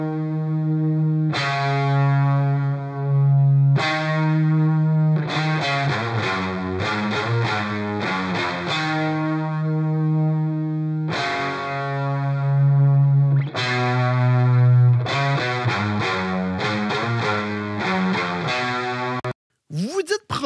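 Distorted electric guitars heard solo with heavy effects processing, playing sustained power chords and quicker chord stabs in a repeating pattern, loud and close, ending abruptly with a brief burst of noise.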